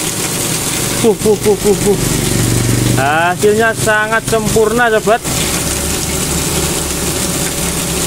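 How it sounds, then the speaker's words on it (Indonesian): A modified Shimizu electric water pump fitted with a flattened volute housing runs steadily and loudly throughout, a constant mechanical drone with someone speaking over part of it. "Eksperimen mesin pompa air Shimizu dikasih keongan gepengan kayak gini ya"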